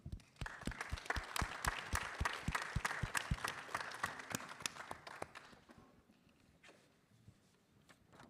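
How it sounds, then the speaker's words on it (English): A modest audience at a Long Beach candidates forum on local ballot measures claps in a sharp, fairly rhythmic burst of distinct claps that stays steady for about five seconds, then quickly thins and fades into a quiet room. "A round of applause."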